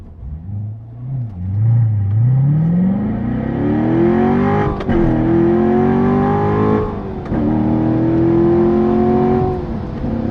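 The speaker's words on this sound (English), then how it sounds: "we'll try a little run down the hill up through the gears" A 2014 Chevrolet Corvette Stingray Z51 engine revs up strongly, pitch climbing steadily, with two brief dips at gear changes before rising again, loud and close.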